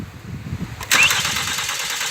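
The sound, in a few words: Kia Carens car engine starting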